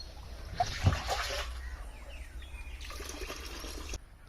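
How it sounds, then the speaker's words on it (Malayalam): Ten litres of fish water poured out on a Kerala farm as part of an organic pest-control mix, a soft, fairly faint splashing rush of liquid lasting a few seconds. "ഇവിടെ നമ്മൾ എടുത്തു വെച്ചിരുന്ന മീൻ വെള്ളം പത്ത് ലിറ്റർ ആദ്യം ഒഴിച്ചു"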